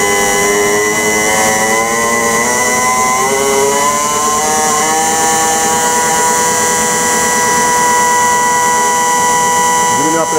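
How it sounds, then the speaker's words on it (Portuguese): A GDI fuel injector test bench, MAX GDI 400, runs at high RPM with a loud, steady whine whose tones rise in pitch as the speed increases, continuous throughout. "Vou aumentar a rotação mais ainda."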